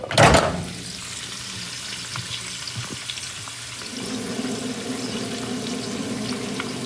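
Bacon frying in a pan gives a steady, close sizzle and crackle that runs throughout, with a brief louder clatter at the start.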